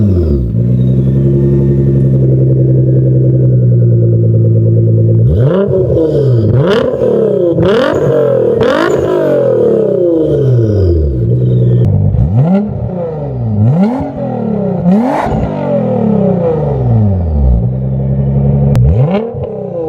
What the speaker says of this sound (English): first we're gonna get some standing revs with the valves closed and then the valves open